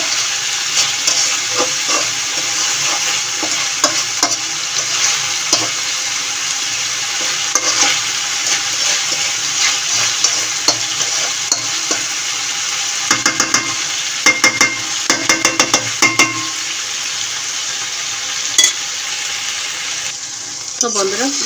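Papaya and potato are stir-fried in a pan for a vegetarian dish, with a steady loud sizzle and repeated scraping stirs that grow into a quick burst of clatter near the end.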